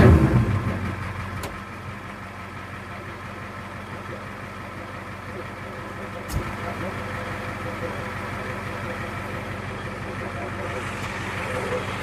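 An old 7.3 IDI diesel truck engine with blow-by idles close by, a steady low rumble throughout, with a couple of brief clicks or knocks partway through.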